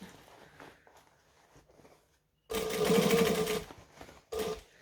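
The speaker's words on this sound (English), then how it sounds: "I'm going to stitch and back stitch" A sewing machine runs a short stitch, pauses briefly, then runs again for a brief back stitch, close by and moderately loud after soft handling noises at the start.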